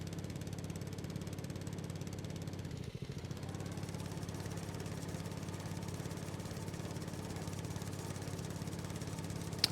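A mower in Farming Simulator 19 runs with a steady, even engine drone at moderate level throughout, with one brief dip early on.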